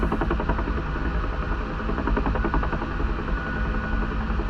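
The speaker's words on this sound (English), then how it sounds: "I wish I could trim this chopper" A UH-1H Huey military helicopter in flight over a harbour in the DCS World simulator, with a steady, loud rotor and turbine drone and a rhythmic thumping pulse throughout, with no talking.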